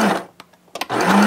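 A sewing machine stitches a quarter-inch seam along the edge of fabric for a gift bag. A close burst of whirring stitches is followed by a short pause with a few faint clicks, then steady stitching resumes.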